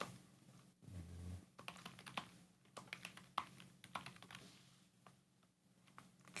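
Typing on a computer keyboard while entering a world name in a development setup: quiet, fairly close key taps in irregular bursts, with a soft thud near the start and short pauses between runs of keys.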